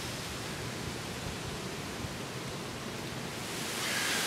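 Steady broadband wind rushing across an open marsh, a loud, constant roar with no breaks that swells a little stronger toward the end, heard alone without voices.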